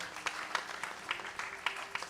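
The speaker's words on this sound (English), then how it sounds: "So give the two sisters a round of applause" Scattered clapping from a small crowd, light and uneven, with a few sharper claps standing out.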